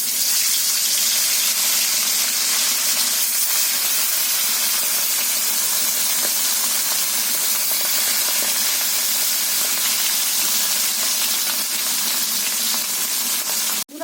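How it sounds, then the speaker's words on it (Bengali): Hilsa fish frying in hot oil in a wok, a loud, continuous hissing sizzle that stays close and unbroken throughout, with no voices over it. "মাছ ভাজা হচ্ছে"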